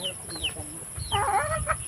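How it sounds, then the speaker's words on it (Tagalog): Chickens cluck close by in a mountain garden in Bicol, a few short rising calls followed by a busier burst of clucking, with faint background noise. "Nusundan ako ng manok ah."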